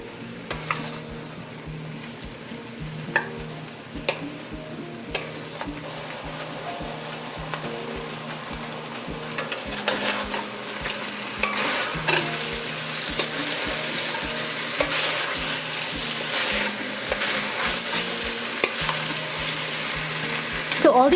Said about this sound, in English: as you can hear, the meat is getting a nice sear on it.